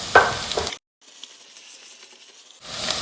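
Chopped tomato with garlic and ginger sizzles and spatters in a hot pan, with a brief pause of silence before a steady, softer frying hiss resumes.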